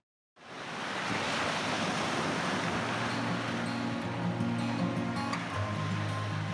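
Sea waves and wind at Ponta das Canas beach in Florianópolis, a broad steady roar of surf and gusting wind that starts abruptly and stays loud and continuous.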